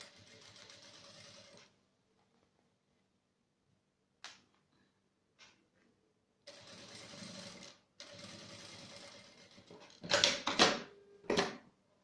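A sewing machine stitches a pocket flap on a fabric phone wallet in short, buzzing bursts separated by pauses, close and clear, with brief clicks and handling noises near the end.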